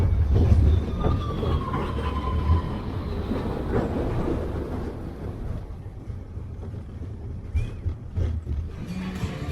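The Big Thunder Mountain Railroad roller coaster train at Magic Kingdom rumbles and clatters along its track, loud and close at first, then fading with occasional rattles and squeals.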